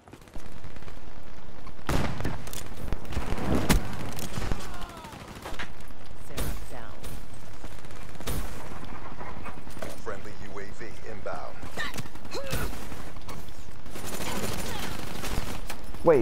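Gunfire in Call of Duty: Black Ops III multiplayer on PS4, repeated sharp shots and bursts scattered across a loud, busy game mix, with a player's voice talking over the action at times.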